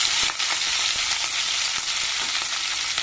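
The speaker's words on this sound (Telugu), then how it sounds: "తాలింపు త్వరగా వేగిన తర్వాత ఇందులో తరిగి పెట్టుకున్న ఉల్లిపాయ, పచ్చిమిరపకాయలు వేసేయండి" Onions and green chillies sizzle and crackle steadily as they fry in hot tempering oil for a tomato curry, a close, continuous hiss with small pops throughout.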